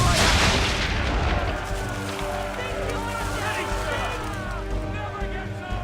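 Swivel guns firing at powder barrels in the Assassin's Creed III naval game, a heavy booming blast up front followed by rolling, rumbling explosions and crackle under a dense, continuous mix of game sound.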